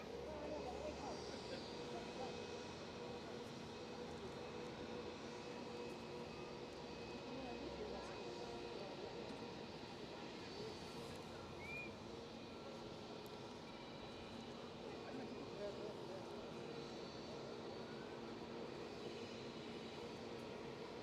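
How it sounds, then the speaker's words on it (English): An airliner approaches Cologne Bonn Airport, its jet engine rumble a steady, moderately distant roar that holds throughout amid outdoor ambience. "so we have another plane coming our way."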